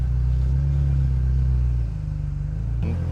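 A Ferrari 355 Spider's engine rumbles close by, a loud steady idle that dips slightly partway through before a brief shift near the end, with no talking.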